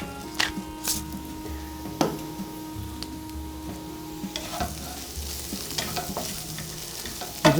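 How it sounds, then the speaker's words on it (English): Home fries sizzle in a frying pan on a home stove while a utensil scrapes and stirs them in short intermittent strokes, the steady hiss of frying running underneath. "You just want to keep stirring your home fries so they don't stick"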